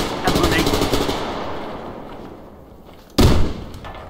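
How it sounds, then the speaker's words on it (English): Sudden grenade blasts in the shooter game Survarium: two loud, sharp bursts of crackling noise, the first trailing off over a couple of seconds, the second hitting abruptly near the end. "I got caught by a grenade!"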